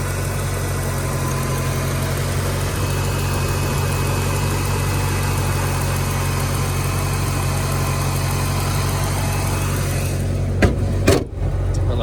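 A four-cylinder Ford Foxbody car engine idles steadily with a low, even hum and faint vibration, close up, then a couple of brief clunks near the end.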